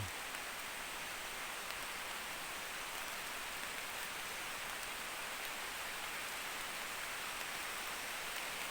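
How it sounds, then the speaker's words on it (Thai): Steady morning rain falls continuously in Thailand, a soft, even hiss of drops that never lets up from start to finish. "ฝนมาแล้วทุกคน"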